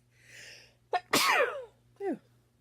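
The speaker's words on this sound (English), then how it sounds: "I'm gonna sneeze." A single loud sneeze with a sharp intake of breath before it, followed by a short vocal sound, close to the microphone.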